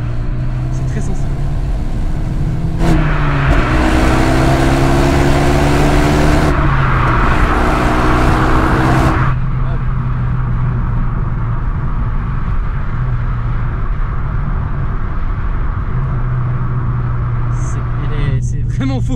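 A Renault Megane RS in sport mode revs from inside the cabin, its engine note rising sharply in a few bursts, with a long surge in the middle before it drops back to a low drone under steady talking.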